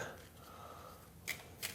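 A deck of playing cards loosely shuffled by hand for a solo board game, Beyond Sector X: soft rustling and sliding, then two short crisp riffles near the end, quiet and close, with no talking.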